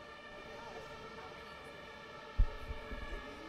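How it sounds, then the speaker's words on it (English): An ambulance siren wails faintly and far off outside a press conference hall in Berlin. It holds a thin steady tone over room noise, with a few dull thumps near the end. "Just maybe let the ambulance fly by"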